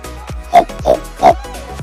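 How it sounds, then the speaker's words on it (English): Boars in an enclosure at Yangon Zoo give three short, separate grunts about a third of a second apart, close and moderately loud, with no talk over them. "I think are boars. Look at them chilling."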